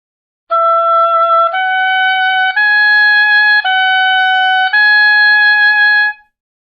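Oboe plays a slow five-note melodic line, each note sustained and clear, reedy and bright, alone in a quiet room.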